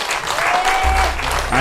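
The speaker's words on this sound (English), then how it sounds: "Let us give him a standing ovation and a round of applause." A crowd at an outdoor political rally in Siparia gives a standing ovation, with loud, dense applause plus a faint tone and low rumble mixed in, sustained across the brief moment.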